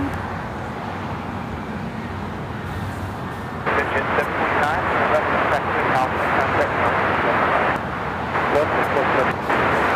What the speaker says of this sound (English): All Nippon Airways Flight 5 taking off to Tokyo Narita on the 787-9 Dreamliner